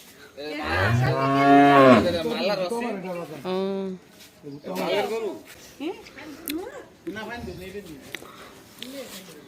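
A sacrificial cow bought for Eid, priced at two lakh taka, moos loudly and close at a home, its long harmonic low calls followed by another shorter moo while people talk nearby.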